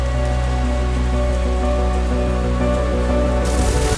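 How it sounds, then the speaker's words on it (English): Steady rain sound effect hissing evenly throughout, layered over soft sustained music tones, ending with a brief shift near the close. "adding the sound effect of some rain with a soft layer of music"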